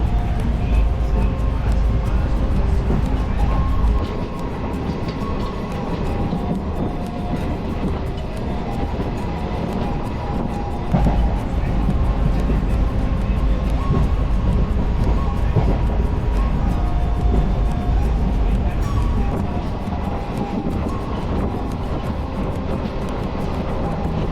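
Inside a moving passenger train on a two-hour trip to Varkala, a loud constant rumble and clatter of the carriage throughout, with no clear speech.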